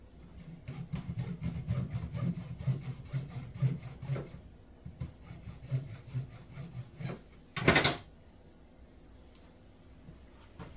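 A hand saw rasps back and forth through a wooden dowel rod being trimmed to support a tiered wedding cake, close and fairly quiet, in uneven strokes with a brief louder burst near the end.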